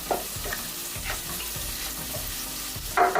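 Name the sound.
onions and cashews frying in a pan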